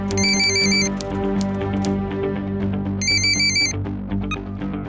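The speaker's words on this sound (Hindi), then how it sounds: "दिवंगत सूर्यकांत निगम के बेटे सूरज के पास एक फोन आया।" A telephone rings indoors in a Hindi crime drama, with two bursts of a bright electronic ringtone trilling over a soft musical background.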